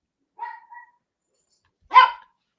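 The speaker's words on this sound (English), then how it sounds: "Hey, is that your dog? Mine is barking" A single dog barks once, fairly close and loud, after a couple of softer, whimpering tones, with no talking during the sounds.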